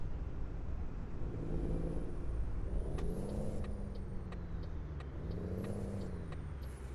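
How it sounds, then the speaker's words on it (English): Jake brake on a modded 2018 Freightliner Cascadia truck in a driving game, a repeated low pulsing engine-brake growl rising and falling over a steady diesel rumble and road noise, three surges in a row. "We'll do the Jake brake here."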